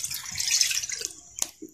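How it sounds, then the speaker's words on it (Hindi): Water splashing into a kadai to make sugar syrup, a bright hissing pour that tapers off, followed by a short metallic clink, close by with no speech. "चाशनी तैयार करने वास्ते पानी असं ये पावे,"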